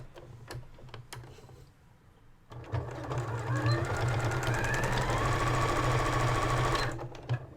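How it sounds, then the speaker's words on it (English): Several ticks of the handwheel are heard before a sewing machine stitches a wristlet seam closed across its short end. It runs as a steady, fast-clattering hum for about four seconds and then stops. "you're going to stitch that closed right across that short end"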